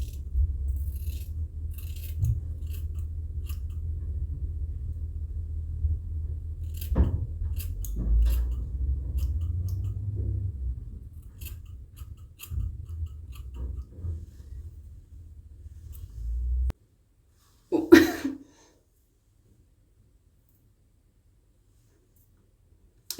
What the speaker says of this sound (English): Obviously not the right scissors for this.